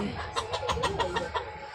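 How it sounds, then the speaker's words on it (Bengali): Hens clucking in a quick run of short, repeated calls, fairly close, with a low background rumble. "মুরগিগুলো আবার ডাকছে"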